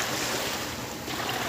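Sea waves wash in a broad, steady roar from a clear seaside, with wind buffeting and no voices.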